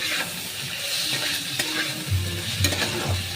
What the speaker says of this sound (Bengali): হাফ চামচ হলুদ গুঁড়ো, এবার কষে নেব ভালো করে।